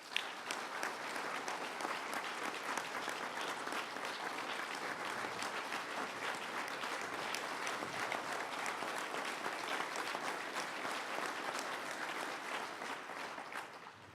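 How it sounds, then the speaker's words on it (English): An audience at a public announcement event for Governor Andrew Cuomo applauds steadily for about fourteen seconds, a dense even roar of clapping that fades at the end. "So join me in giving another round of applause"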